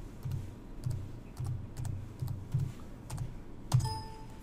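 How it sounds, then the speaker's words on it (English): Computer keyboard keys tapped in short bursts while entering a search term in software help, soft and fairly close with small pauses between clusters of keystrokes. "Click on the search tab and type in behavioural with the US spelling"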